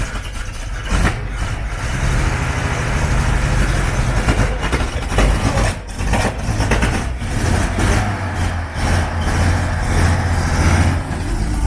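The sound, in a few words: canteen trailer engine running, driving under its own power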